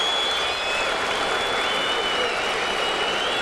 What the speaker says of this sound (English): that brings a cheer from the crowd here at Yankee Stadium